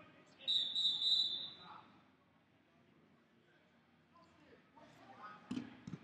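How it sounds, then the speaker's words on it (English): A referee's whistle is blown at a sports match as one sharp, high, sustained blast lasting about a second. Speech and crowd noise carry on around it. "Blow the whistle again. Blow the whistle."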